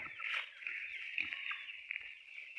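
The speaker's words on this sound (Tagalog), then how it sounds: "Yung mga baboy guys, oh." Pigs on a farm grunt and oink in a run of close, overlapping squeals and snorts that fill the whole clip, with no talking.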